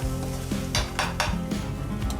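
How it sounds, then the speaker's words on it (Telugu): Onion and tomato puree being stirred into fish curry masala in a pan, with clattering spoon-on-pot scrapes and clinks over a steady sizzle, several distinct stirring strokes close up. "ఒకసారి బాగా ఇలా కలుపుకోవాలి."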